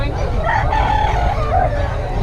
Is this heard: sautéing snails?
no